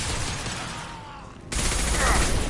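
Concussive shots are fired in the sci-fi shooter Mass Effect 2: a dense, noisy volley of gunfire that dips briefly, then returns louder and fuller with a sudden surge.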